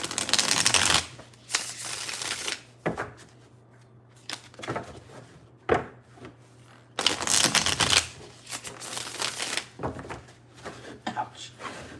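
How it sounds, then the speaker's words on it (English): Tarot cards being shuffled in several bursts of rapid riffling and flicking, with pauses and softer handling sounds between them. "I'm going to shuffle it."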